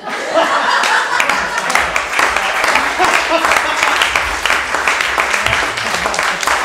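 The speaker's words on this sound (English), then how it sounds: "Give him another round of applause." A comedy club audience claps steadily throughout after a stand-up set, a dense wash of applause with scattered chuckles and a few voices mixed in.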